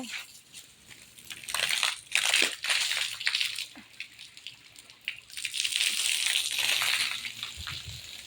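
Water is poured onto a potted plant with splashing, trickling and crunchy patter on soil and leaves, in uneven bursts that swell and fade with no one talking.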